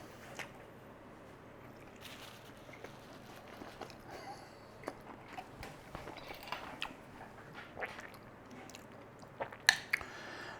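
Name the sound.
chewing crunchy cheesy beef tortilla pocket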